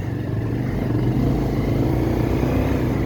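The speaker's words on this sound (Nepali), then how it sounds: "अहिले दबाउनु पऱ्यो दाइ, दबाउनु न बाइक।" A motorcycle pulls uphill on a mountain road, its engine droning low and steady under load, close and loud throughout with no talk.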